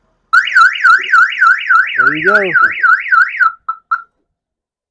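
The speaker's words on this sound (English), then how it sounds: "My alarm and all that's back to working like it should." Viper car alarm on a truck sounding loud and close, a rapid warbling siren cycling up and down for about three seconds before a few short chirps; someone speaks briefly partway through.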